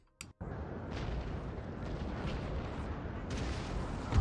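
Cannon fire from Napoleon: Total War, a continuous rolling roar of artillery and battlefield din after a brief sharp burst at the start, loud and dense throughout with no pauses.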